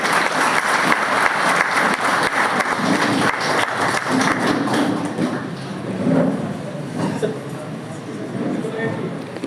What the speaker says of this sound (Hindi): तालियों से स्वागत होनी चाहिए।